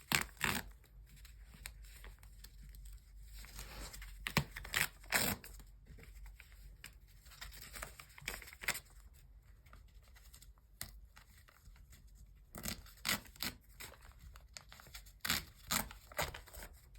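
Foundation paper being torn out of the back of a pieced quilt block, a run of short crisp ripping bursts in uneven clusters at close range, with quiet pauses between them and no talking.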